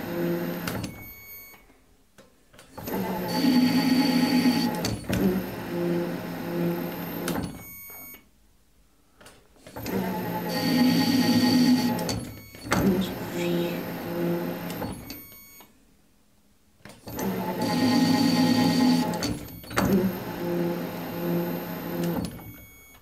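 A threading insert ground on a machine in a workshop: three separate bursts of steady whirring grinding, each several seconds long with quiet gaps between, close and moderately loud.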